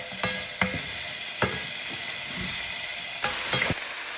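Prawns sautéing in a hot pan for ginataang tambo, a continuous sizzle punctuated by several sharp utensil scrapes and clacks of stirring, close and with no talking.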